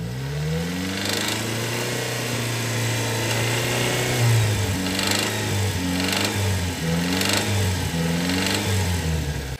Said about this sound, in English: Guys, that really sounds like a rod knock to me